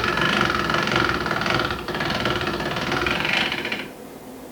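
A hand-cranked-style pasta machine rolls a floured, folded sheet of spinach pasta dough, giving a continuous rhythmic mechanical whirr and rattle that eases off toward the end, close and fairly loud with no talking.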